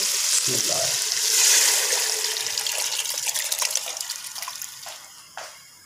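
Water pouring into a pot of swelled dal while cooking restaurant-style tadka dal, a steady broad rush and splash that stays loud throughout before tapering off near the end, with no voices over it.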